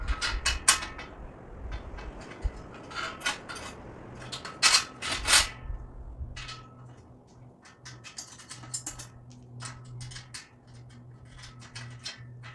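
A 2.5-inch bolt is fitted into a Muddy tree stand from Walmart, giving close metallic clinks, scrapes and rattles in short bursts, then quieter fiddling and a faint hum.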